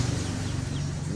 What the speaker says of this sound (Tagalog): mga tagutom na manok